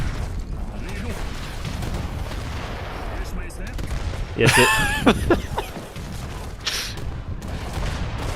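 Leather cannons fire in Age of Empires III Definitive Edition, a Swedish game on an Orinoco treaty map: repeated booms and cracks of artillery mixed with battle clatter, under someone talking.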